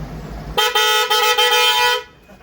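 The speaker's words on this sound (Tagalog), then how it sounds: "busina." A single sustained motorcycle horn blast from a Suzuki Burgman scooter, loud and close, holding one buzzy tone for about a second and a half before stopping abruptly.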